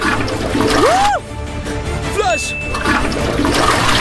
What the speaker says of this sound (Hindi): फ्लश।